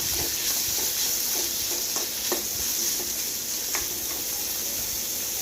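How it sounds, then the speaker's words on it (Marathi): Chopped tomato masala frying in a pan for a restaurant-style potato curry gets stirred, a steady sizzle broken by several sharp scraping and clinking strokes of the spoon, close and with no talk. "आता हा टोमॅटो सुद्धा आपण छान असा नरम करून घेऊया"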